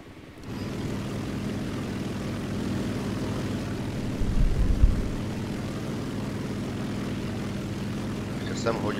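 Steady drone of a propeller aircraft engine in the War Thunder naval-battle game, a continuous hum that swells briefly midway, with a voice speaking faintly near the end.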